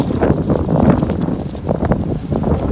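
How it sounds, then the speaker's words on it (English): Gusty wind buffets the microphone outdoors at a storm-battered Long Beach LIRR train station, a continuous rough low rumble that swells and dips steadily and loudly throughout, with no speech. "It's getting windy again."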